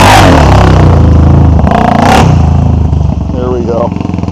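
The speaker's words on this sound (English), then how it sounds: "Showing some style today on the XR 400." An XR 400 dirt bike ridden through a muddy rainforest puddle, its engine revving loud and close with clattering and splashing, then easing off as the machine pulls away, while a voice talks over it.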